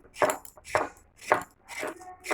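Pointed gourd (potol) is cut and scraped with a knife in a home kitchen, five crisp rhythmic strokes close up with no voices.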